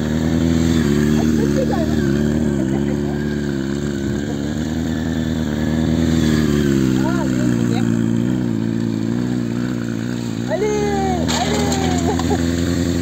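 A stunt motorcycle engine runs loudly nearby, its pitch rising and falling as it is revved repeatedly, with voices faintly underneath.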